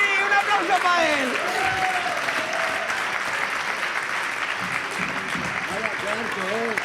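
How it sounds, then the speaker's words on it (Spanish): Audience applause at a raffle during a comedy monologue, a steady wash of clapping throughout with a voice speaking over it near the start and again at the end. "¡Un aplauso para él!"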